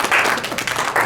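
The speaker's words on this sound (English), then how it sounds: "Everybody give him a round of applause." An audience claps for a presenter at a church talk, a brief burst of dense applause from a crowd, fairly loud and continuous for about a second.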